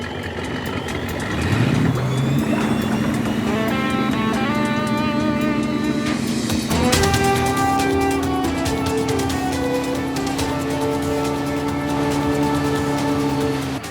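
Offshore racing powerboat engines at full throttle during a race start, a loud sustained roar with steady tones that rise and surge around two and seven seconds, heard alone throughout.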